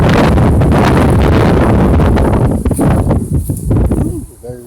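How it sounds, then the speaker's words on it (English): Strong wind buffets a microphone outdoors in a cemetery, giving loud continuous rumbling gusts that ease slightly toward the end, with a voice faintly audible beneath. "very windy out here today"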